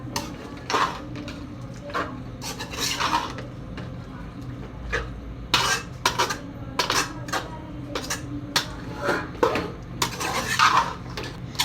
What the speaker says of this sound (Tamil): இதெல்லாம் போட்டதும் நம்ம கிளறி விட்டுக்கலாம்